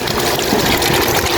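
Clear water runs steadily from a tap at a house, free of dust and odour, a continuous close splashing flow with no pauses and no voices.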